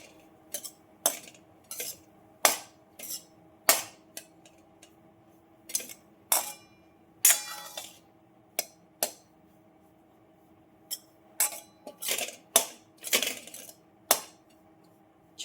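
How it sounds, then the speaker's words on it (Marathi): A utensil roasts finger millet flour in ghee in a pan, producing sharp metallic clinks and taps that come in scattered bursts with quiet gaps between them, close and clear, with no talking. "आता हे आपल्याला भाजून घ्यायचं आहे."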